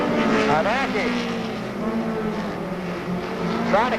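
Race cars roar past at Monadnock Speedway weekly racing in 1993, engines rising and falling in pitch as several cars sweep by, under a continuous announcer's voice calling the action.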